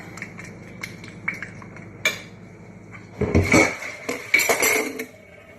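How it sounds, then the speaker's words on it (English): Cookie cake dough being mixed in a small bowl: a spoon scrapes and clinks against the bowl in irregular bursts, louder and busier in the second half, with no talking. "it's too hard to mix in a small bowl"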